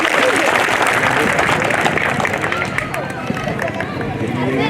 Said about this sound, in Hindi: कांग्रेस के प्रत्याशी बामने जी का जोरदार तालियों के साथ स्वागत करें